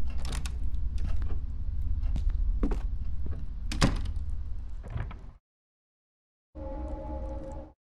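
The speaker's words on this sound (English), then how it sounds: "Is that door opening upstairs?" In a horror video game, a door creaks and scrapes open upstairs amid a rumbling low drone and scattered knocks. After a brief silence, a tonal eerie hum follows. No talk.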